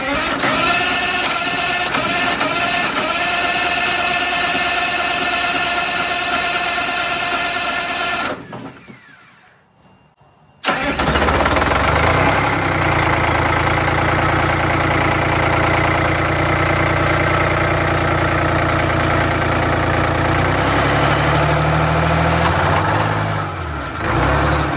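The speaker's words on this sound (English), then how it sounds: "it'll turn the engine over without it firing up" Detroit Diesel 6V92 engine in an MCI MC9 coach turns over and runs with a steady, loud mechanical clatter, breaks off into a brief quiet gap, then returns as a deep, rumbling idle, with no voices.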